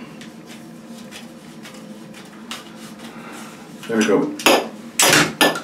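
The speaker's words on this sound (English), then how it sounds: "I got my PVC cutters here. Ratchet PVC cutters, these will be good." Ratchet PVC cutters snap through PVC pipe during a toilet flush valve installation, a few sharp clicking crunches building to loud cracks near the end, close and brief, with a voice speaking briefly.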